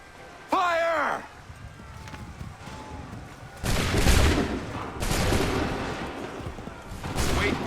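Gunfire volleys on command in Assassin's Creed III, several loud bursts of massed musket fire separated by pauses, with a shouted voice near the start.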